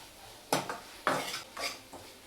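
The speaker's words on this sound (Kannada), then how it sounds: "ಸೊ ಇದನ್ನೆಲ್ಲ ಫ್ರೈ ಮಾಡ್ತಾ ಇದ್ದೀನಿ" Garam masala frying in a pan for a North Karnataka-style hesaru kaalu palya, heard as a few faint, separate scrapes and clinks of a utensil stirring against the pan, with no voice present.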